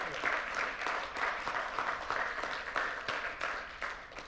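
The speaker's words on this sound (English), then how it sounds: "Round of applause for these two." Audience applause for two speakers at a law office talk on AI: a sustained, even patter of many hands clapping, heard quietly and at some distance for several seconds with no speech over it.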